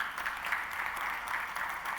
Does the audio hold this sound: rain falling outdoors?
no